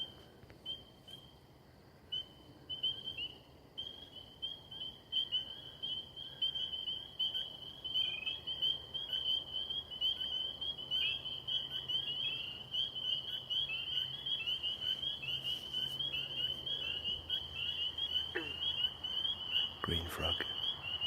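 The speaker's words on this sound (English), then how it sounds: "Green frog." Green frog calling at night in a Maine frog chorus in late May, heard among a steady, dense chorus of high trilling insects or frogs, with a low hum underneath and occasional faint voices nearby.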